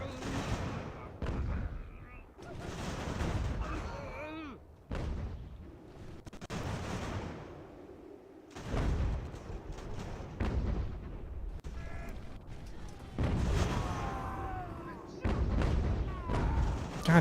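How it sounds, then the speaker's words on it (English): Artillery firing canister in Ultimate General: American Revolution sounds as repeated heavy booming volleys mixed with crackling musketry, loud bursts separated by brief lulls, with someone talking over parts of it. "I ran my boys in front of the guns as they fired canister."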